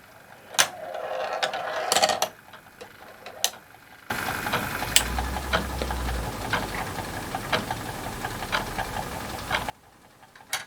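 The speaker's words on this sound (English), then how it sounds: "Here is just a ticking sound." A first-generation Arrow electric ball clock ticks up close in sharp, irregular mechanical clicks, with a steady hum from a running mechanism in the middle stretch.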